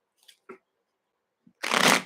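A few faint card flicks and taps, then a quick riffle shuffle of a deck, close and crisp.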